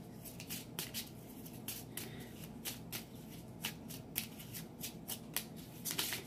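Tarot cards being shuffled by hand, a steady run of soft crisp riffles and flicks at close range over a low background hum.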